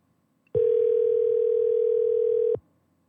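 One outgoing telephone call ringing unanswered: a single steady ringback tone lasting about two seconds, clear and alone, then silence.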